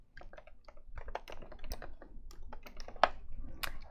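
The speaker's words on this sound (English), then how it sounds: "that's what I'm going to go ahead and type in here" Fingers type on a computer keyboard at close range, a quick uneven run of crisp key taps with a louder strike near the end and no voices.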